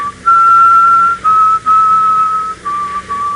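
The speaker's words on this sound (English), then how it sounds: "his peculiar habit of almost continually whistling the mournful strains of a funeral march" A man whistles a slow, mournful funeral march in one clear, sustained melodic line, loud and close with brief breaths between phrases.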